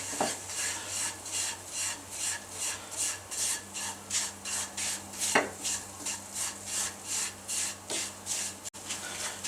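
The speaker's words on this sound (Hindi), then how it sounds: "सूजी को डाल के आपने चमचा साथ साथ चलाना है और इसी तरफ भूनना है।" A metal spoon scrapes and stirs semolina roasting in ghee in a pan, making steady rhythmic rasping strokes about twice a second, close and continuous, with an occasional sharper knock against the pan.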